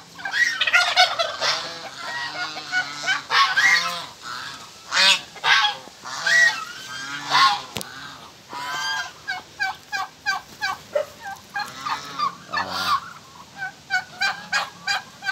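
A flock of turkeys, ducks and geese on a farm gobbles and honks loudly and continuously, with overlapping rapid calls from several birds close by.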